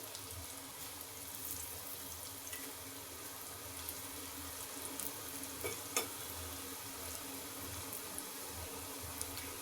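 Bitter gourd and raw banana fry in a pan with a steady, dense sizzle that runs throughout, broken by a few faint clinks and scrapes, with no talking.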